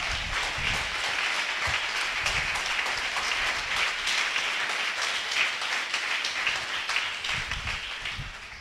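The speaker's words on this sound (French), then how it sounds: "Acclamons Jésus-Christ." A church congregation acclaiming Jesus Christ with sustained applause, dense steady clapping filling the space from start to finish, fading slightly at the end.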